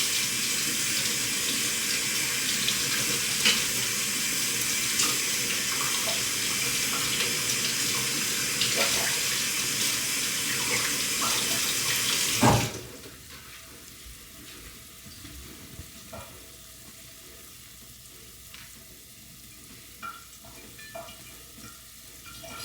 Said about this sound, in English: I'm rinsing off my knife because I need it to add the butter.